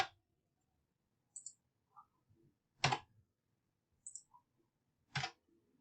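Computer mouse clicks while editing a digital image collage, with a handful of sparse, crisp single clicks spread out and separated by silence, close and quiet with a few faint tiny ticks between them.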